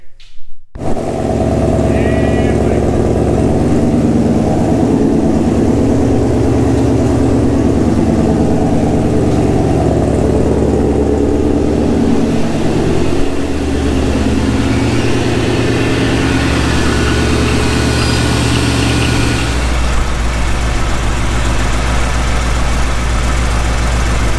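A supercharged Mustang GT V8 engine fires up and settles into a loud, steady idle with a deep, rumbling throb that continues unbroken at close range.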